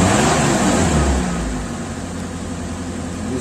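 Suzuki Espass engine revving after a tune-up, a steady loud mechanical drone that starts strong, eases down after a second and a half, then holds at a lower, even level with no voices.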